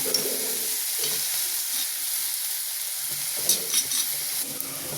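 Onions frying with ginger garlic paste in a pan for biryani, a steady close hiss and sizzle with occasional stirring, alone and moderately loud.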